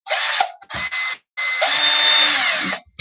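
A power drill bores out a stripped screw in plastic, whining loudly in three close bursts, the last one long and steady, with brief stops between.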